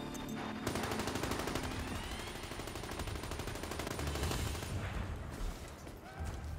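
Sustained rapid automatic gunfire in Call of Duty Zombies on the Origins map, a dense continuous rattle of shots lasting several seconds, steady and loud with no pauses.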